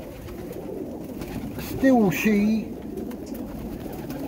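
A pigeon in a loft gives a couple of close, loud coos, one after another, over a low room hum while someone speaks in Polish.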